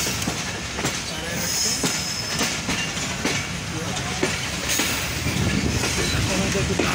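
The Banglabandha Express pulls out of Parbatipur Junction in Rajshahi: close, loud rolling wheels with rhythmic clickety-clack, squealing and hiss from the railcars, steady and continuous.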